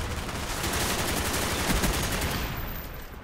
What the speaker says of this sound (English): the flinch is just ridiculous on these LMGs